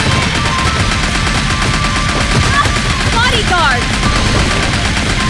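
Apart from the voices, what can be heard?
gunfire in Sega Golden Gun arcade game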